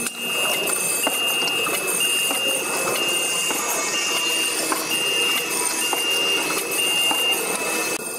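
A cartoning machine cycles steadily, its kicker and folders closing the minor and major carton flaps, giving a dense continuous mechanical clatter with repeated rhythmic knocks and a steady high whine, close and loud throughout.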